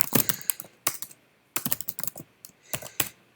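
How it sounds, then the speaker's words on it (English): Someone types on a computer keyboard in short irregular bursts of close, crisp key clicks separated by brief pauses, with no talking. "I need to do more typing, Chloe"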